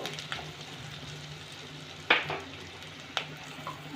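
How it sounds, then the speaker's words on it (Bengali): Ground chilli, coriander and cumin spices frying in a pan, a low continuous sizzle broken by a couple of sharp scrapes and clinks of a spoon stirring, quiet and close with no voices. "এবার একটু নেড়ে নেব একটু সামান্য কষে নেবো"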